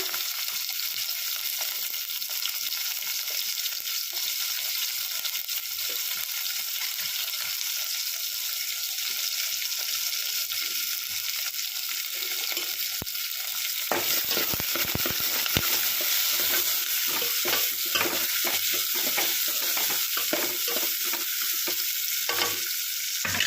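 Green chillies and onion fry in a pan with cumin seeds, giving a steady loud sizzle that grows busier partway through as the pan is stirred, and nobody talks.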